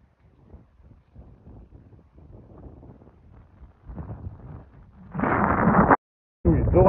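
Wind gusting straight into a phone microphone outdoors, starting as faint rumbles that build into loud, roaring blasts near the end, with a brief cut-out between gusts.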